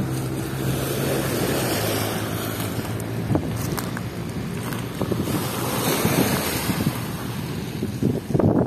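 Steady, roaring wind from Tropical Storm Kristine buffets the microphone outdoors at Dolomite Beach, with waves washing in the background and occasional knocks and rustles.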